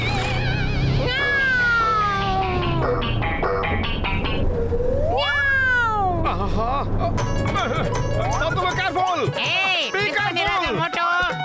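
Cartoon cat from Motu Patlu meowing in a series of drawn-out, rising and falling yowls, loud and close, mixed with cartoon music and sound effects and overlapping voices.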